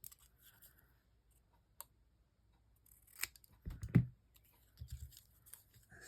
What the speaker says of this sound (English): And let's cut this off because I cut it off in the center there